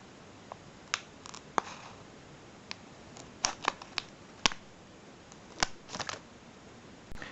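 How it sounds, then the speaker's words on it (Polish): Scissors snip open a gold foil LEGO Minifigures Series 10 sachet, giving a run of sharp, close, crinkly snips and clicks at irregular intervals, fairly quiet and with no talking. "naszymi magicznymi nożyczkami otwórzmy naszą ładną złacaną saszetkę"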